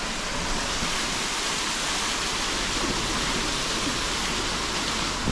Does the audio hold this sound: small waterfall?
yes